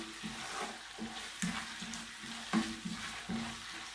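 Onions fry in a hot pan, crackling with a steady sizzle punctuated by a few louder bursts and stirring clatters, close up and with no voices.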